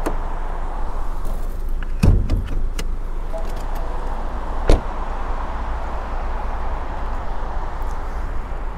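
A BMW 118i F20 M Sport with a 1.5-litre three-cylinder B38 engine has its bonnet opened: a few sharp latch clicks around the two-second mark and a firm clunk later, over a steady quiet background.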